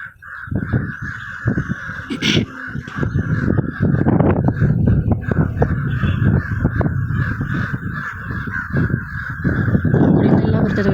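A flock of crows caws loudly and continuously, overlapping raucous calls close by, with a constant buzzing drone in the background.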